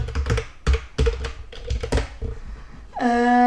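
Keys on a computer keyboard pressed in a quick series of close, crisp taps, followed by a sustained tonal sound at the end.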